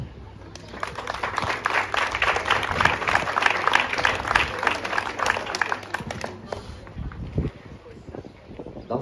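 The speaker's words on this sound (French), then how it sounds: "de nous applaudir bien fort" Audience applause before a play staged as a Romeo and Juliet story, clapping rising quickly, holding strong for several seconds, then thinning out into scattered claps and murmurs.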